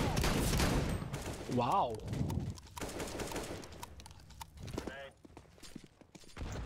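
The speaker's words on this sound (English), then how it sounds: "Machine shotgun." Rapid automatic shotgun blasts from a Counter-Strike match on Faceit, a quick run of close, punchy shots among other game effects while a player reacts briefly.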